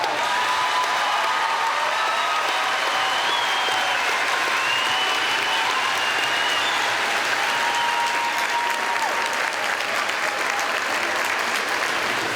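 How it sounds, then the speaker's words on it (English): A large crowd at the Wagner College commencement applauds the bachelor's degree awardees, a continuous, even wash of clapping with faint cheering mixed in, sustained at steady loudness throughout. "Please honor all the bachelor's degrees awardees with your applause."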